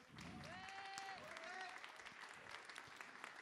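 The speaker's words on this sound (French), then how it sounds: "le but c'est de les applaudir." An audience applauds at the opening of a festival at La Belle Electrique, a steady crowd of clapping with a voice speaking briefly over it early on, fairly distant and even throughout.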